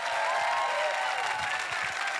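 A church congregation claps during a French-language sermon on prayer, a broad wash of applause with faint sustained tones running through it.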